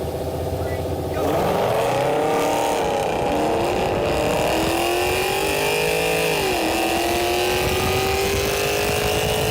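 Drag race cars launch after a quiet start, engines roaring up through rising, shifting revs that climb and dip as gears change, loud and sustained for the rest of the pass.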